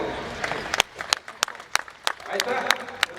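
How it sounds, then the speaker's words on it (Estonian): An audience claps at a political gathering at Toompea, with scattered sharp hand claps that build into brief applause, mixed with voices. "Minu arvates võiksime suure aplausi teha."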